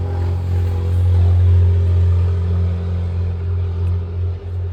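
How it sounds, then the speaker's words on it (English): Loud, steady low engine rumble of a vehicle, continuous and close, with a droning hum that swells slightly and then eases. "if you do hear any traffic noise I apologise"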